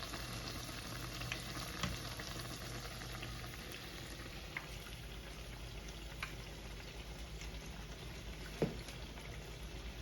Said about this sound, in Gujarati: આપણે પછી આવી રીતના એને પલટાવી દેવાના અને એને એકદમ સરસ ગુલાબી કલરના તળવાના.